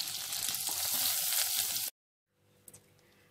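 Butter melting and sizzling in a pan at the start of a white-sauce pasta, a loud steady crackle for about two seconds that cuts off abruptly, then faint low kitchen noise with a small clink.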